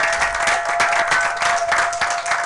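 A church congregation applauds together, a dense steady wash of many hands clapping at close range, with no break in the sound and a faint tonal hum sitting underneath it.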